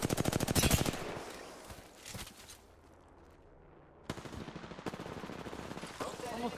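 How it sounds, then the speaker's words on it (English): Automatic weapon fire in the Apex Legends battle royale, a rapid close burst at the start and again near the end, with a quieter gap between and occasional player talk. "They're firing"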